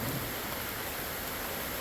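Heavy rain pours down on a deer food plot in a dense, steady hiss, close and loud, with a low rumble beneath and no voices.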